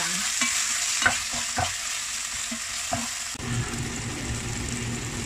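Clams with bell pepper and garlic sauce are stirred in a sizzling pan. A constant close frying hiss runs under scattered spatula scrapes and taps, and the sizzle grows louder toward the end. No one speaks.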